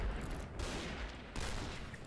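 Rapid gunfire in the shooting game Point Blank, two dense bursts of crackling shots separated by a short pause, fairly faint and without talk.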